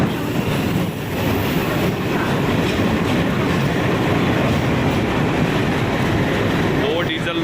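The 01197 Poorna Express passenger train rolls at Miraj junction with a loud, continuous rumble and a rushing, rattling wheel noise.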